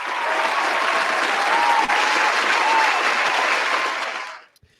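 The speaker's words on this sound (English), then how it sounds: "A round of applause for a returning audience member." An audience breaks into sustained, dense applause that holds steady for several seconds, then fades out quickly at the end, with no talking over it.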